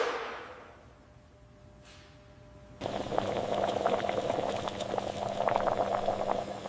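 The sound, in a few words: shrimp cooking in boiling water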